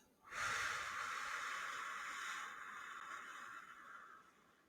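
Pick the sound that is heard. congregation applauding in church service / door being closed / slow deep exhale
slow deep exhale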